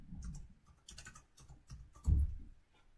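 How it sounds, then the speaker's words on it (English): Keyboard typing in short bursts of light clicks, with a louder cluster of thuds about two-thirds of the way through, close and alone with no talking. "let me just type this in"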